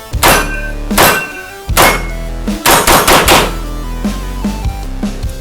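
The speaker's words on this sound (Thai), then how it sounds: "คลิปนี้นะคะก็มารีวิวตัวปืนแล้วก็ทด สอบยิงนะคะ ปืน SMG ที่ได้รับความนิยมกันช่วงนี้เลยก็คือ BNT APC 9K Pro" A B&T APC9K Pro submachine gun fires on a range: loud, sharp reports, first as spaced single shots, then a quick burst of several, followed by softer follow-up shots.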